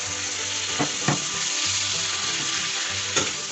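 Pork belly stir-fried in red curry paste in a hot pan, a loud continuous sizzle with a few sharp scrapes of the spatula as it is tossed.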